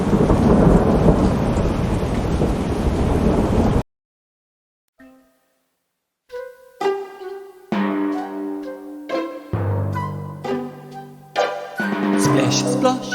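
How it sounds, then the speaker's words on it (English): A loud rumbling crash of thunder with rain noise opens, then silence, followed by sung melody and music. "Splish, splosh, raindrops, hear the thunder crash."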